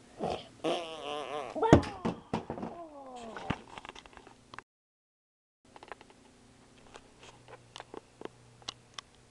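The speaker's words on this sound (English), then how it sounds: "Fart turbo." A cartoonish video game fart effect plays as a long, wobbly, rising and falling blare, followed after a brief silence by scattered small clicks and thumps.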